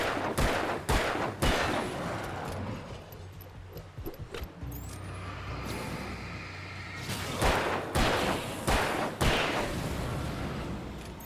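Gunfire in the Alan Wake video game: a string of sharp, loud shots in uneven bursts, some spaced apart and some grouped, with a low rumble between them and no talking.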